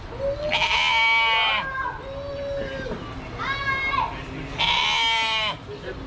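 Goats bleat loudly and close by at a petting area in Santa's Village amusement park, Dundee, Illinois, several wavering cries in a row with short gaps between them, over faint background chatter.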